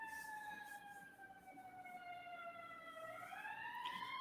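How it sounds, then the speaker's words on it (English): Emergency vehicle sirens wail outside at night, a faint, distant, steady tone that slowly falls and then rises again, with no talking over it. "there's a lot of sirens tonight"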